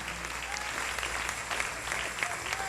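A church congregation applauds in a steady, dense wash of many hands clapping together, sustained and moderately distant, with faint voices mixed in.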